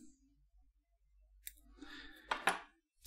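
Small scissors make a few quiet snips and clicks while trimming fly-tying material on a Dette Coffin Fly pattern, close by in a quiet room, with no voices.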